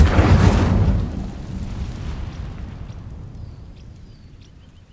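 The Incendio fire spell in Hogwarts Legacy igniting dry vines, a loud whooshing burst of flame that fades into a softer crackling rumble.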